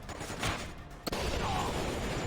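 Video game gunfire, heard as a loud sustained rattle of shots with a sharp crack near the middle, steady and close with no talk over it.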